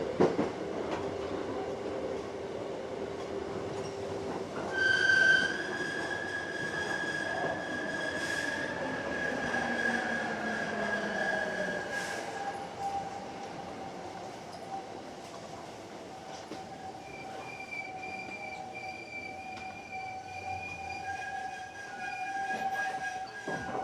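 A Hankyu Kyoto Line 7300 series local train with field chopper control runs between Kyoto-Kawaramachi and Katsura, heard from inside the car: steady rolling rumble, rising and falling motor whine, wheel squeal and clicking joints, with no voices.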